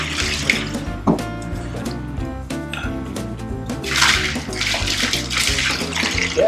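Freshly cooked ramen sausages are plunged and pushed down into an ice bath, with water sloshing, gurgling and splashing continuously up close, growing busier toward the end.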